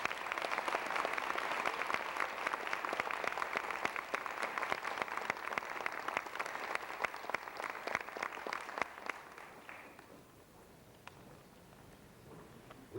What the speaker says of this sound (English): let's give them one more rousing round of applause